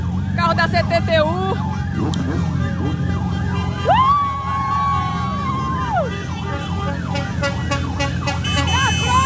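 A CTTU traffic agency car in a rainy Recife motorcycle motorcade sounds its siren, a wailing, sweeping tone cycling repeatedly with one long held note, heard clearly over motorcycle engine drone and crowd noise.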